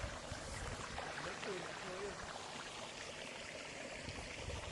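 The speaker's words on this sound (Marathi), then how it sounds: "पाण्याचा आवाज ऐकू शकता तुम्ही" River water flowing near a village bathing spot, a faint, steady rushing and trickling wash heard at a distance, with a few soft voices in the background.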